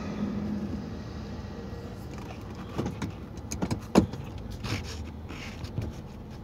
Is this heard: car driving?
yes